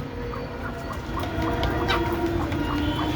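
Backyard chickens peck and feed hurriedly, with soft clucks and scattered pecking sounds over a low, steady background.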